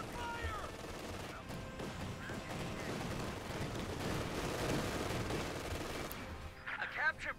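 Rifle gunfire in the World War II strategy game Company of Heroes 2, a dense, continuous crackle of shots and distant battle noise heard faintly throughout.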